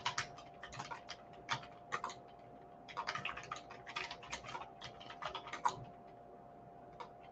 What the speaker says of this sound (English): let me type this in the chat box so that you have that list